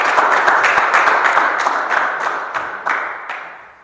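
A church congregation applauding during a Christmas Day service, dense continuous clapping from many hands that is loud at first and gradually thins and fades.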